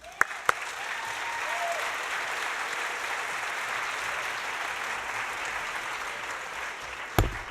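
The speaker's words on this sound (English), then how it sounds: "maybe they need another round of applause" An audience at an Armenian Genocide commemorative event gives a sustained round of applause, a broad, even wash of clapping that holds steady for several seconds, framed by a few sharp knocks at the start and end.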